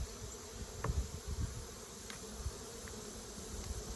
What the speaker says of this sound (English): There are definitely a lot of bees in this hive